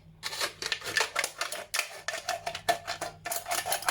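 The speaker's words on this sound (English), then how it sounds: "you're just going to stick the scissors in" Scissors cutting a drinks can in half, a rapid series of crisp metallic snips and crunches, close and continuous.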